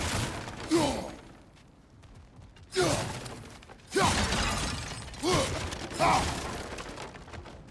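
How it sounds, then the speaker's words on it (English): Wooden objects splinter and crash in God of War Ragnarök in four separate loud smashes spaced a second or two apart, each with a crunchy rattling tail of debris. "back to smashing through things for fun and profit"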